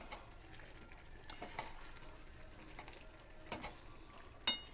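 Kadhai chicken roast is stirred and fried dry in a kadhai, with faint, irregular scraping clicks of a spatula over a low, quiet sizzle and no talking.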